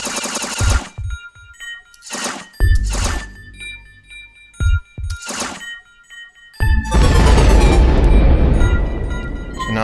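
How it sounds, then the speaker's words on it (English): A shooter game built in GameSalad plays synthetic effects: sharp blasts and bursts separated by gaps, then a sustained, dense, noisy explosion-like roar and game over sound that holds loudly to the end. "So now not only do we get that explosion, but we get that simple game over."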